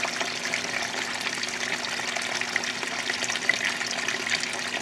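Water rushes steadily into a washing machine as it fills, a continuous hissing, splashing flow at moderate level with no breaks, heard alone without talk.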